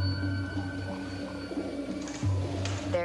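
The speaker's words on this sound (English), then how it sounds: "We were, in fact, hearing what sounded like women chatter, but it was, in fact, the pigeons." Pigeons coo in soft, low, repeated murmurs that carry over a faint background hum, and one coo ends with a brief higher flutter.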